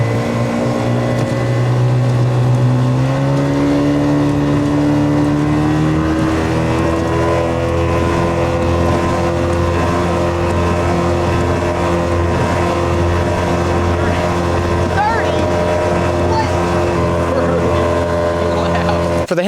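A 40 hp Hangkai outboard motor pushes a small boat at full throttle, its steady loud drone climbing in pitch early then holding a sustained high whine throughout, with wind and water rush mixed in.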